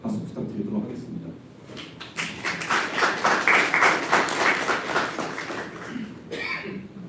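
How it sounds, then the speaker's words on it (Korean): Applause from a company assembly crowd welcoming new hires and award winners, building into a dense burst of clapping over a few seconds before fading, with some talk around it. "박수 부탁드리도록 하겠습니다"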